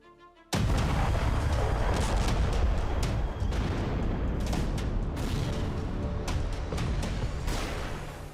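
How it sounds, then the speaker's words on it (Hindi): A massive blast as North Korea blows up a road leading toward South Korea: a sudden, loud boom followed by a long, thundering roar of debris and rumble with crackling bursts, without speech. "एक दिन पहले ही उत्तर कोरिया ने दक्षिण कोरिया की सड़क धमाके से उड़ा दी"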